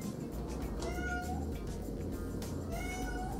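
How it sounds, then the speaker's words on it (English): Cats meow indoors at night, a few drawn-out cries rising and falling over a steady low background hum. "Dang cats."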